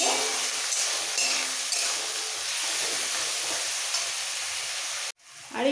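A paste of garlic, ginger and cumin frying in a pan for a fish curry, giving a loud, steady, close sizzle that runs on without a break and then cuts off abruptly near the end.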